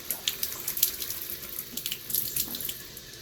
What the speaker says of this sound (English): I'm going to water it once. Soak it so the water runs through.